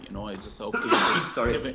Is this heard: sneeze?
yes